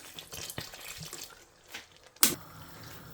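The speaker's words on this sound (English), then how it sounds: "Add about 100 ml more water" Faint trickling and splashing of about 100 ml of water poured into a pot of coconut daal in short bursts, ending with a sharper splash, quiet and close.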